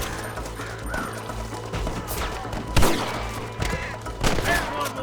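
Gunfire in the Western shootout game Red Dead Redemption, several sharp shots cracking out over steady background rumble and crow-like caws, with one loud blast near the middle and more shots toward the end.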